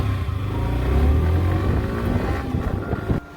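A motorcycle rides the road from Lavasa to Pune, its engine droning steadily under heavy wind rush before cutting off abruptly near the end.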